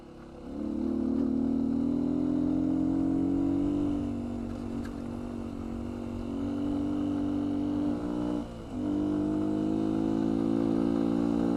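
2019 Beta 125 RR-S dirt bike fitted with a 150cc Yamaha big bore kit, ridden up Mount Herman, its engine droning steadily and loudly at a held throttle with a brief dip around a shift before pulling again.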